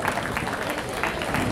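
An audience at a folklore festival claps, and the applause runs as a dense, steady patter of many hands with faint crowd noise mixed in.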